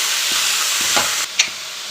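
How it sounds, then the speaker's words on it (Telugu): Chopped bottle gourd pieces cook down in a pan, giving a steady close hiss with a few soft stirring knocks and a brief sharper clink near the end. "కట్ చేసుకున్న సొరకాయ ముక్కలు కొంచెం మగ్గనిచ్చుకుందాం"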